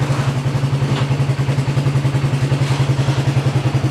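A Polaris ACE 570 engine with an overheating issue runs at a steady, loud idle with a rapid, even chugging pulse and faint mechanical clatter throughout, close to the listener.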